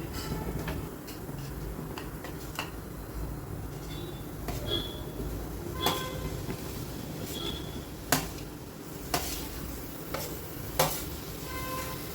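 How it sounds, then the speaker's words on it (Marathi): Chopped tomato stirred in a pan for Marathi-style tomato chutney, with a low bubbling background broken by a series of sharp spoon scrapes and clicks that grow more frequent toward the end. "आता आपल्याला हा चिरलेला टोमॅटो घालून घ्यायचा"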